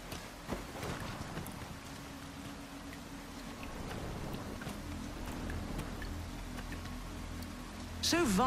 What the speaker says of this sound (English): It's raining cats and drakes.